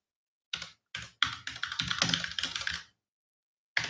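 Quick bursts of keyboard typing in short clusters, close and clear, followed by a pause and one more keystroke.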